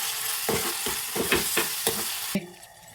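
Onions sizzle in a hot pan with a pinch of salt, while a spoon stirs and scrapes through them in a series of close, rhythmic strokes over a steady frying hiss.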